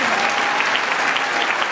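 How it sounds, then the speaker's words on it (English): An audience at a UW–Madison School of Pharmacy graduation ceremony applauds a graduate student speaker, a dense, loud, even wash of clapping filling the whole moment. "Let's give her a round of applause."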